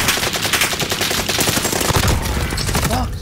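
Rapid, relentless automatic gunfire from a heavy-recoil weapon in the Warzone video game, loud and close, a dense rattling burst running almost the whole way before easing off near the end.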